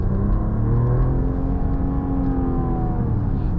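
A 2024 Mercedes-Benz E450 4Matic Pinnacle accelerates in eco mode, its engine tone climbing smoothly in rising harmonics, loud and close from inside the cabin, with no voices.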